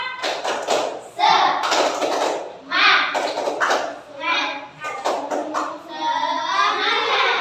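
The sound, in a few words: children doing the 'tepuk semangat' spirit clap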